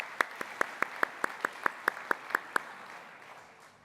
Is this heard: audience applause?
yes